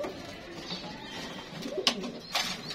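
Pigeons on a balcony make faint cooing calls while running toward food. The coos are soft and come against a low background hum.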